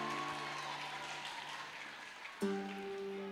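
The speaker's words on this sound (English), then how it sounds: "Give him a round of applause again." Audience clapping at a school prize giving and awards ceremony, a moderate, fairly distant patter of hands under a steady hum, with a sudden thump partway through as an electronic tone rises.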